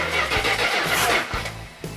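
A V8 engine for a 1972 Dodge Charger, mounted on an engine run stand, cranks and fires with loud, uneven rumbling bursts and rough, sputtering combustion close by, without speech.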